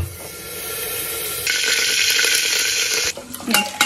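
Dal tempered with hot dalda in a pan, a loud sudden sizzle that holds steady for about a second and a half, then breaks into crackling spatter.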